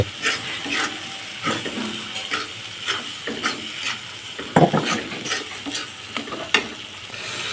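Prawns frying in a pan while a spatula stirs them, giving a close, continuous sizzle broken by repeated scraping strokes and occasional sharp clacks against the metal.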